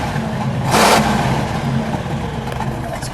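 A 1954 Buick Skylark convertible's engine idles and gives one short, sharp rev before dropping back to a steady running rumble.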